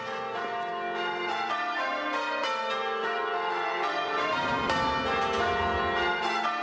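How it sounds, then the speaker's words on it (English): The twelve bells of Liverpool Parish Church ring together in a dense, continuous peal with overlapping tones, steady and fairly loud throughout, no voices. "here at Liverpool Parish Church, there are 12 bells that make beautiful music"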